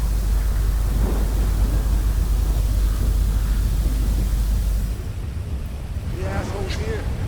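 A storm in the video game Grand Theft Auto V roars as a constant heavy hiss of rain and wind, easing noticeably toward the end, where a faint voice briefly comes through.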